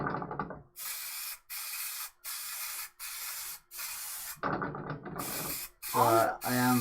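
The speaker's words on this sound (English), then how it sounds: "So I am spraying it from a distance." Spray can sprayed from a distance in a series of rhythmic hissing bursts, about eight short sprays with brief gaps, loud and close, with a voice briefly at the start and end.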